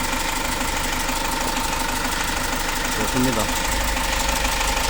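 A vehicle engine idles steadily at about 722 rpm after injector cleaning, a loud continuous knocking rumble that holds throughout, while someone briefly speaks over it.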